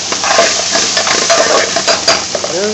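Chopped onion and browned garlic frying in a pan, a loud, close crackling sizzle with repeated scrapes and clinks of a utensil against the pan as the mixture is stirred, and no talking.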